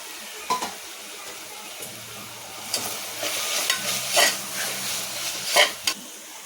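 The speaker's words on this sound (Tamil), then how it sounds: "அரைச்சி வச்சுருக்க மசாலாவை சேர்த்து இந்த எண்ணெயிலே நல்லா வதக்கி விட்டுக்கலாம்" Ground masala paste sautés in oil in a pan while cooking a cluster bean gravy, giving a low sizzle with intermittent scraping and clinking stirs of a spoon against the pan, close and fairly quiet.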